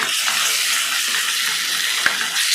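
Onion, tomato and spices frying in a pan give off a dense, steady sizzle, close and fairly loud, with a single faint tap near the end and no voices.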